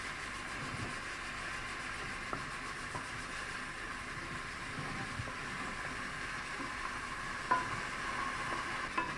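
Flour browning in a frying pan: a faint, steady sizzle with occasional light clicks and scrapes from stirring.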